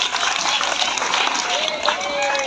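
Clapping from the audience at a teacher training session, a loud dense burst of hands that stays even throughout, with voices mixed in alongside the applause.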